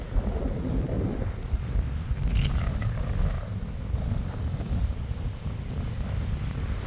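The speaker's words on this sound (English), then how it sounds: "Oh, it's very windy." Strong gusty wind buffets the microphone at Pyramid Lake, a steady low rumbling roar that fills the whole stretch with no voices.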